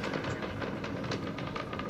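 Deep, steady rumble with a rough, crackling texture from a SpaceX Starship rocket launch about 6 miles away, distant but powerful, rolling on without a break.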